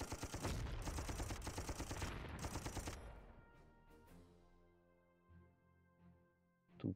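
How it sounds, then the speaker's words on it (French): Artillery fire in the Panzer Corps wargame: a dense, rapid volley of booming shots for three seconds, then fading rumbles and scattered distant reports, with no speech. "Petit tir d'artillerie."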